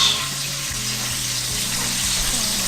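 Capers and Worcestershire sauce hit a hot pan, producing a steady close sizzle with a broad hiss that holds at an even loudness throughout, while low clinks and scrapes from a utensil sound underneath.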